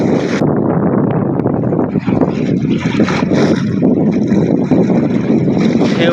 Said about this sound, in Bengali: বাতাসের কারণে কিন্তু এখানে প্রচণ্ড ঢেউ উঠেছে এই নদীর পাড়ে